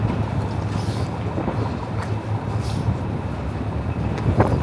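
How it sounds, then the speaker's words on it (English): Wind buffets the microphone during a morning walk through Central Park on the Upper West Side of New York City, producing a steady, close rumbling whoosh with a faint low hum beneath and no clear talk. "it's windy."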